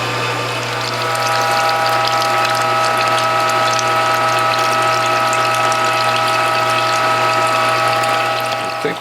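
A Norwalk juicer pressing citrus and ginger, heard as a loud, steady mechanical whir with a constant low hum and a dense ratcheting grind running without a break the whole time.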